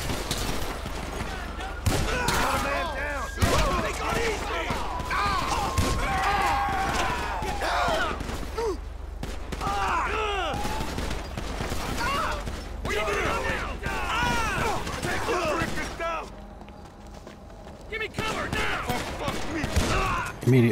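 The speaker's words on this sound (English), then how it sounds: "Shots fired. I repeat, shots fired." Rapid, sustained gunfire from a police shootout with bikers in GTA V, dense crackling volleys and ricochets throughout, with radio voices talking at times.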